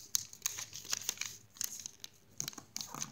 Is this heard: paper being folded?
yes